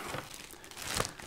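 Paper manuals and documents from a Zoom H6 recorder box are handled, giving a short burst of crinkling and rustling paper, close and fairly quiet, with a louder crumple near the end and no talking.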